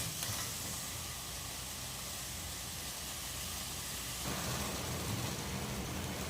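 Ginger garlic paste sautéing in a pan for mutton gravy, a steady broadband sizzle and hiss that runs continuously at low level and grows slightly louder partway through.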